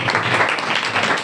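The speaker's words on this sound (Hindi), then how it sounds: "शाबाश, इसके लिए तालियां बजाएं।" Students in a classroom break into a short burst of dense, steady clapping, fairly close and loud, with no speech over it.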